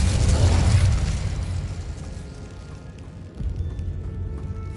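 A Bombarda spell explodes in Hogwarts Legacy with one heavy, booming blast up close at the start, then a long rumbling decay that fades into a low background.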